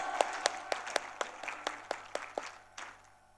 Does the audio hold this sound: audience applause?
yes